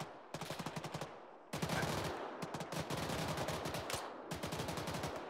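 Repeated gunshots at a shooting session, sharp close reports fired in quick bursts with brief pauses between volleys, loud and dominant; a voice speaks briefly.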